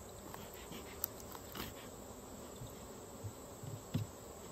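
Honeybees from a weak hive give off a faint, steady buzz that stays low and distant, with a few soft knocks and rustles rising briefly near the end.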